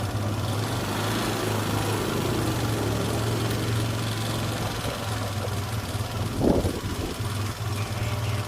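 A Honda Click 110 motor scooter idles steadily at close range, a low even engine drone holding throughout with a brief louder blip near the end.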